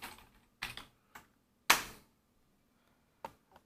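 A computer keyboard is typed on in a few separate bursts, with sharp clicking keystrokes close by in an otherwise quiet room.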